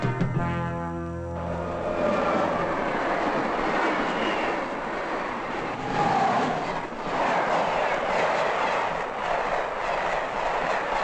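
A French SNCF train from 1973 rumbles steadily nearby, a low mechanical rolling noise with a brief tonal hum at the start, continuous and fairly loud throughout.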